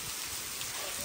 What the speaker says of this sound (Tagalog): It is really raining so hard.